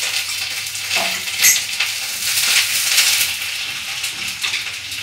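Chopped onion, panch phoron, garlic and dry red chilies sputter in hot oil as a tempering. A bright, continuous sizzle is heard close up, with occasional clinks and scrapes of a utensil against the pan.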